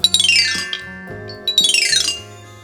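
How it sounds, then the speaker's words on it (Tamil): A toy xylophone is struck in quick runs of bright, ringing metallic notes, two rapid sequences with a short pause between, close and clear with no talking. "இது பார்த்திங்கன்னா ஜைலோஃபோன் சவுண்ட் வந்து சூப்பராக வரும்."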